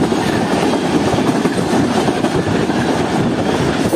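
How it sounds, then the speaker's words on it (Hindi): The Shah Hussain Express pulls out, a steady close roar of rolling wheels and rumbling carriages with faint clickety-clack, continuous and loud with no talk. "ठीक 1:32 पर ट्रेन डिपार्ट कर रही है इस वक्त।"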